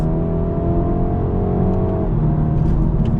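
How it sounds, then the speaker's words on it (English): A car accelerating in manual shift mode, heard from inside as a loud steady engine drone that climbs in pitch, then drops briefly at a gear change before pulling again. "let's do another acceleration test with manual shift mode"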